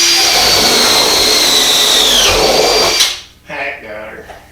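A power drill whines loudly for about three seconds while drilling during a pond build, its pitch dipping near the end before it cuts off and a voice briefly follows.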